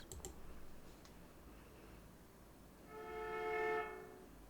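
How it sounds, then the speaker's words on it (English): A video game train signal sounds in the distance from a station, a steady harmonic tone swelling for a second or two after some faint clicks in a quiet setting. "I can hear the first train signal of the day from the direction of the station."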